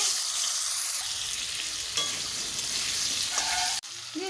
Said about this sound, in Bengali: ওই তেলেই আলুগুলোকেও ভেজে নেব